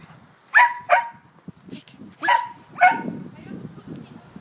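A dog barking outdoors in a few sharp, close barks and yips spaced over several seconds, with a person talking in between.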